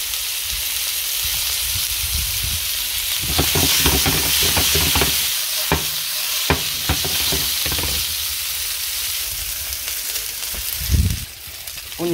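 Garlic and spring onions sizzle in a hot pan, a steady frying hiss with intermittent stirring scrapes and clinks, close and fairly loud.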